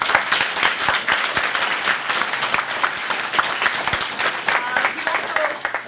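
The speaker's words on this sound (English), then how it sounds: "A round of applause." Audience applause closing a debate final at a 2018 awards event, lively uneven clapping with distinct sharp claps and some voices mixed in among the crowd.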